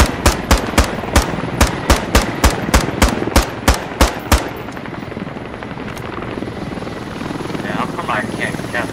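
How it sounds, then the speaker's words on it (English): Enemy helicopter in the video game Squad, its rotor thumping in steady rapid beats that fade out midway, followed by a continuous engine whine with distant gunfire. "Enemy helo to our northwest, trying to touch down"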